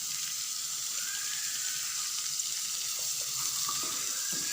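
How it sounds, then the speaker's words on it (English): Chopped spring onion mixture sizzles in a pan with a steady, even hiss. The cooking runs continuously without breaks and there is no speech. "So now I'm going to add a little bit of spring onion to this mixture. I'm going to nicely saute this thing."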